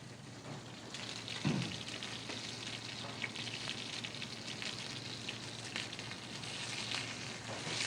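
A centre-cut beef fillet sears in a hot pan, giving a continuous dense crackling sizzle that stays close and fairly even throughout, with no voices.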